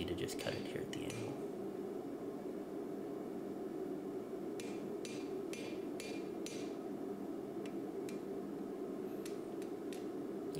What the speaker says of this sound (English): it's really nice and quick and easy to just cut it here at the anvil